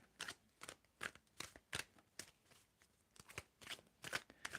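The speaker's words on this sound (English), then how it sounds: "tell me when I need to stop the shuffle" Tarot cards shuffled by hand in a quick, uneven series of crisp riffling bursts with short pauses between, close and fairly quiet, no voices.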